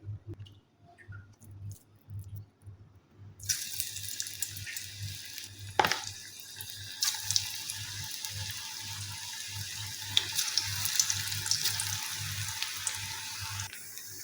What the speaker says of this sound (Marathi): लगेच भजी सोडून घेऊयात तेलामध्ये